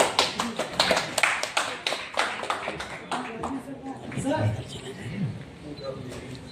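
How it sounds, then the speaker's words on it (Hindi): Sparse, light hand claps from a small crowd at a film launch ceremony, a run of quick separate claps over the first few seconds that fades into someone speaking. "तालियां थोड़ी कमजोर है"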